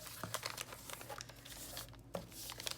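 Large sheets of paper folded for a craft project: soft crinkling, rustling and creasing sounds in irregular bursts, close and quiet.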